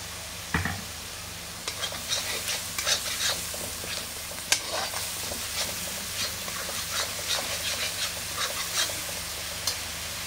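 Spice masala stir-fries in a kadai, giving a steady sizzle with scattered sharp crackles and pops and occasional scraping from stirring, close and fairly loud with no talking.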